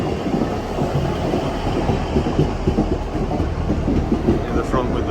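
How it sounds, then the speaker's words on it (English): A Class 158 diesel passenger train pulls into Morley station, a steady loud rumble with clickety-clack of wheels over rail joints running throughout, close by and continuous. "Right, our train is approaching."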